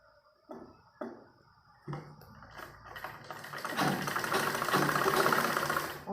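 A sewing machine stitches folded-over fabric for a suit or kurti, first in a few short separate bursts, then running steadily with a dense mechanical rattle that grows louder toward the end.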